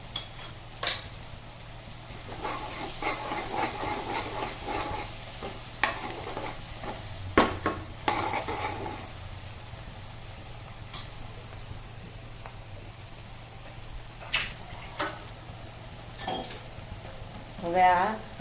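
Dal baati ingredients sauté in a pan with steady frying sizzle, punctuated by repeated scrapes and clinks of a spoon stirring against the metal, no talk.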